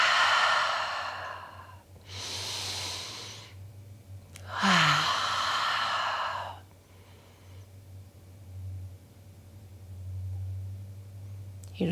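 Slow, deep breathing during a gentle yoga session: two long airy breaths, then a fuller one with a slight catch, and a fainter breath later, close to the microphone over a quiet steady hum.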